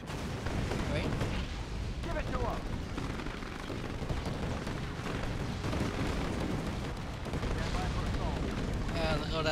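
Dense battle noise from Command & Conquer 3: grenade explosions and rattling gunfire pile up continuously, loud booms and bursts overlapping without pause, with speech mixed into the din.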